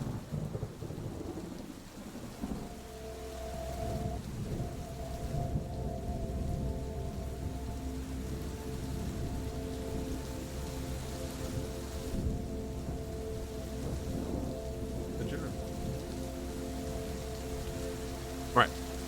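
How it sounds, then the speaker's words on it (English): Rain patters steadily on a roof during a thunderstorm, with deep rolling thunder and a low continuous hum throughout and a sharp brief tap near the end, fairly loud and with no speech. "The rain is pitter-pattering off the tiny hut."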